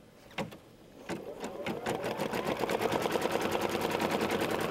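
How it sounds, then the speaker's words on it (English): An embroidery sewing machine stitches a bag strap connector, starting with a few separate clicks and then settling into a fast, steady mechanical rattle that grows louder and stays close with no voices. "I'll press go, stitch the first color, which will be the first strap connector."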